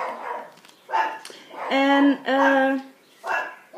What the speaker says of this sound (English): excuse me for my dogs, because they're in the garden, and they're my guardian dogs.